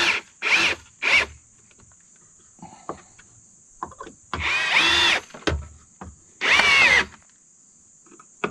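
A power drill drives screws while prepping a Trex deck. It whirs in several short bursts, with two longer runs later, separated by quieter gaps with light knocks. A thin steady whine runs underneath throughout.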